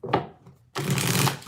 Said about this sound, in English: Let's get 6 shuffles here.